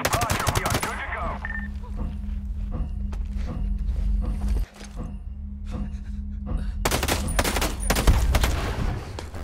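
Rapid bursts of automatic gunfire in the Ghost Recon Breakpoint shooter, loud volleys at the start and end with sparser distant shots and footsteps in between.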